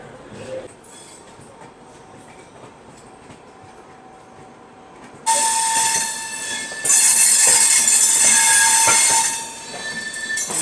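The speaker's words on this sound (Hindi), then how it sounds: "तो अपने निर्धारित समय 10:10 पे हम लोगों का डिपार्चर हो चुका है न्यू दिल्ली रेलवे स्टेशन से" Duronto Express train pulling out of New Delhi railway station, a steady low rumble that swells abruptly into loud wheel and rail noise with sustained high squeals and screeches, no talk.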